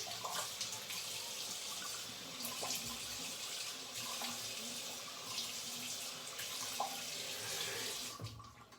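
Cold tap water running steadily into a sink as a face is rinsed after a shave, a continuous soft splashing with occasional louder splashes, close by and without speech.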